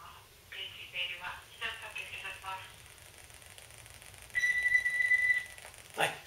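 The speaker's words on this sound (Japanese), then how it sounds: "はい、これ留守番電話になってしまいましたので、ちょっと分かりにくかったですかね。" A landline answering machine plays its recorded greeting over a phone's speakerphone: a thin, distant synthetic voice, then a long steady beep, with a soft click at the end.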